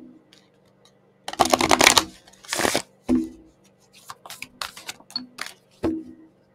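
Playing cards being shuffled in several quick riffling bursts, close and crisp, separated by short pauses and a few light taps.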